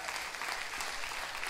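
Church congregation clapping together in a steady, dense burst of applause during Sunday worship, sustained and even throughout with no voices rising above it.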